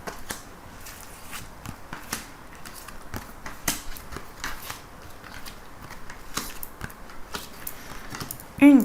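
Tarot-style cards drawn one by one from a deck in a fortune-telling reading, giving a steady series of quick, crisp snaps and slides, close and fairly soft, with a brief louder clatter at the very end.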